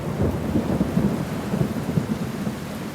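A thunderstorm with heavy rain over a hill at night, a dense, continuous low rumble of downpour and thunder, steady and enveloping for a few seconds with no voices.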